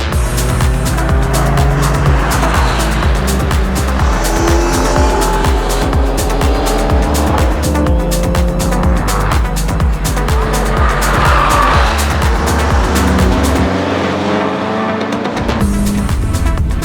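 Race cars on the Nürburgring at Brünnchen, with loud engines roaring and revving past at close range, overlapping passes, tire squeal and engine tones rising and falling, alongside a little background chatter.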